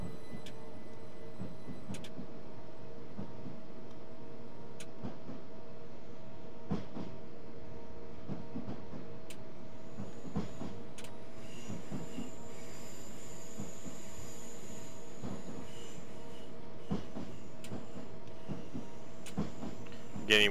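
Electric commuter locomotive pulling out on the London to Brighton line in Train Simulator 2014, a steady low motor rumble and hum with faint clicks and clunks and a thin high whine building in the middle, no talk.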